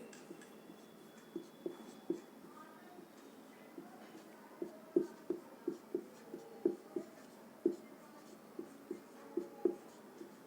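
A teacher writes notes by hand for students during a science class on food, the pen or chalk tapping and scratching in quick irregular strokes. The strokes are close and fairly crisp against a quiet background.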